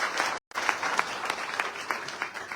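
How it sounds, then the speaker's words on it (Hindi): An audience claps loudly for two gurus at a business gathering, a dense close round of applause with one brief dropout near the start before it continues steadily. "मैं चाहता हूं उनके लिए जोरदार तालियां।"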